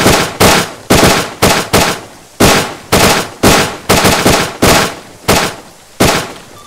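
Suppressive gunfire on a house in ArmA 3: loud, close bursts of rapid shots, roughly a dozen evenly spaced volleys each ringing off before the next, with no talk over them.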